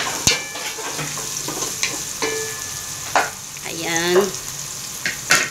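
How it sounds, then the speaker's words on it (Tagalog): Garlic, onion and ginger fry in a pan for ginataang tambakul, a steady close sizzle with stirring scrapes and clanks, while a voice speaks briefly over it. "may bawang na tayo, sibuyas, at saka luya, na iprito ko na ngayon."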